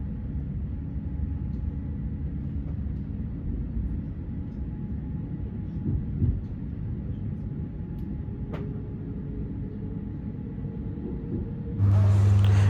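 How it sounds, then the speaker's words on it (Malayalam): Steady low rumble of a train interior on a ride through Zurich toward the airport, constant and fairly loud, with a sharper whine or hum rising near the end. "അങ്ങനെ നമ്മൾ ട്രെയിൻ എടുത്തു."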